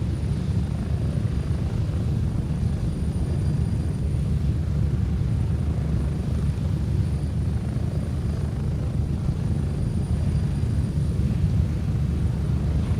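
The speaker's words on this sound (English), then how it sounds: "Do not shoot the chopper blades." Helicopter in the Escape from Tarkov video game, rotor blades spinning at an extraction point; a steady, loud, close rotor and engine rumble runs continuously without a break.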